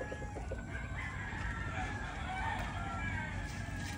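A fighting rooster in a backyard, with clucking and crowing over a dense, noisy outdoor background of other fowl.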